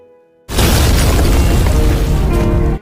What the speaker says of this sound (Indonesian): serangan bom dari pihak tentara sekutu mengenai jembatan yang membuat mereka terpental karena efek ledakan.